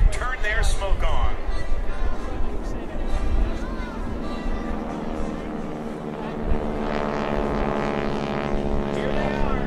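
Propeller airplanes of the Skytypers airshow team cross in formation at about 180 mph over Jones Beach, a steady droning engine roar that swells as they pass, heard beneath continuous announcer talk.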